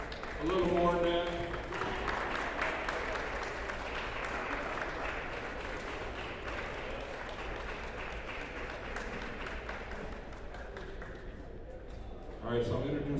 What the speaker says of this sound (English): let's have a round of applause as the players enter the court